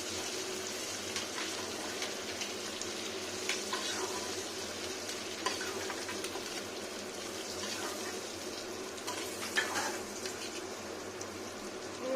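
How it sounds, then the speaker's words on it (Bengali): Whole potatoes fry in a pan with a steady, moderate sizzle and occasional stirring scrapes, close by and without any talking. "গোটা আলুটা একটু ভেজে নেব গোটা অবস্থাতে"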